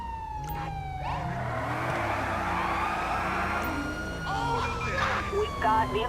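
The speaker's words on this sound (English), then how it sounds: "We're gonna go lights and sirens for this." Police car siren in GTA V with the LSPDFR mod, a loud wail that rises and falls steadily over engine noise, with a faster yelp-like warble near the end.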